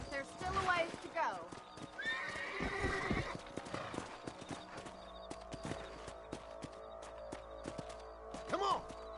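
Horses in the Red Dead Redemption video game, with clip-clopping hooves and a whinny as riders mount up on a ranch, and people talking over the hoofbeats.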